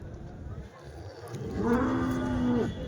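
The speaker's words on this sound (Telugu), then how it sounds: "ఇక్కడికి ఎక్కువ హెచ్ఎఫ్ ఆవులు జెర్సీ ఆవులు అలాగే ఇంగ్లీష్ బ్రీడ్ ఆవులు హెచ్ఎఫ్ దూడలు జెర్సీ దూడలు ఇంగ్లీష్ బ్రీడ్ దూడలు ఎక్కువ వస్తాయండి" Cattle at a Sunday cow market in Chintamani, Chikkaballapur district, Karnataka, where HF, Jersey and English-breed cows and calves are traded: one long, close bovine moo rises over a steady crowded market murmur.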